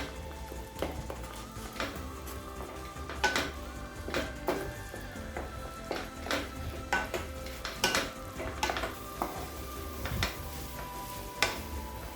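A spoon scrapes and clinks repeatedly against a pot while thick semolina upma is stirred, over a low steady sizzle from the stove.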